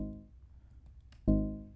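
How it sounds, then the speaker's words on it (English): Percussive SuperCollider bass synth built from a modulated sine oscillator: two deep, complex-timbred notes, the first fading out, then a sharper attack at the end, alone and fairly quiet. "So it's kind of a percussive bass instrument with a complex timbre."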